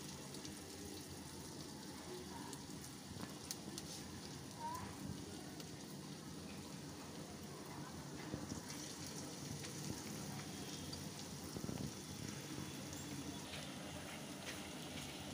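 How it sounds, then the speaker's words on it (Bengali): Broccoli pakoras sizzling in hot oil in a home kitchen, a steady hiss and crackle of frying that holds at a moderate level throughout the clip. "এভাবে হাতের সাহায্যে পাকোড়াগুলো তেলে দিয়ে দিবে।"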